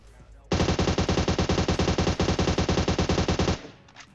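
An AUG rifle fires in the video game BGMI as one loud, rapid full-auto burst of about three seconds with evenly spaced shots, then cuts off into brief quiet.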